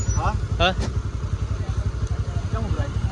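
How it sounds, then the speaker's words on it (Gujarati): A motorcycle engine chugs steadily nearby, its low rumble running throughout while people talk over it. "દિલીપ આગળ બાઇક લઈને જાય"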